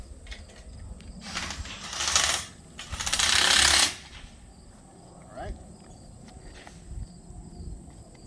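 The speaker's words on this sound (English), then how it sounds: "you might have to just use a hand tool to get these to go, because they are pretty tight" Hand tool working tight bolts on a WaterBug side sickle, heard as mechanical ratcheting and clanking with two louder bursts of metallic grinding early on, then quieter scattered clicks.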